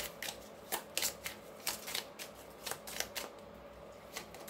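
Tarot cards are shuffled and drawn close by in a quiet room, a run of soft crisp riffles and flicks arriving in uneven bursts, faint overall and without speech.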